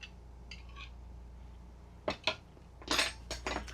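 Dishes and cutlery clink while food is plated with sriracha at a campground RV kitchen, a few sharp separate clatters in quick succession over a quiet room hum.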